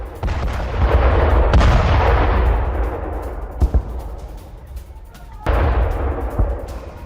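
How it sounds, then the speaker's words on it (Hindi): FAB-3000 and FAB-500 bombs strike a Ukrainian weapons depot, setting off heavy, deep booming explosions that roll and decay for seconds, with sharper thuds and a fresh blast partway through. "जोरदार धमाका हुआ है।"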